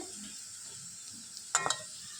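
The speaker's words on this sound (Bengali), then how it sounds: "আলুটা একটু ভালো করে আমি ভেজে নেবো একটু লাল লাল করে ভেজে নেবো" Potatoes frying in a pan with turmeric, browning in oil with a steady soft sizzle and a couple of brief stirring scrapes near the end, no voices.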